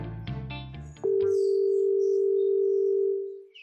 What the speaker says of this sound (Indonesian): Coba saya telepon istri dulu ya